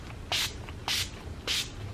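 Urban Decay All Nighter setting spray misted in three short, evenly spaced hissing bursts at close range, quiet background between sprays and no talking.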